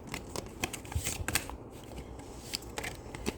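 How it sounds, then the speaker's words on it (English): Tarot or oracle cards being shuffled by hand up close, a run of crisp riffling flutters and soft slaps at an irregular pace, with no talk. "So let me shuffle this."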